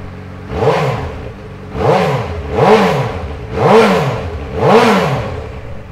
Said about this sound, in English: So I'll give it a start up so you can have a listen.